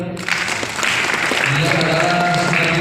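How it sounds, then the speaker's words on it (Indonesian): An audience applauds at a formal ceremony in Indramayu, a steady, dense wash of clapping that swells after a moment, with voices faintly audible in the mix. "Tepuk tangan untuk beliau."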